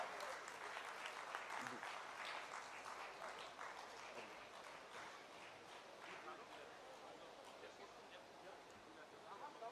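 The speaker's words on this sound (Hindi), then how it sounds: "सभी लोग जो है तालियां बजा करके इनका स्वागत करेंगे।" Steady, faint, distant applause from a large audience greeting a minister arriving on stage at a public event, with crowd murmur mixed in, lasting about ten seconds.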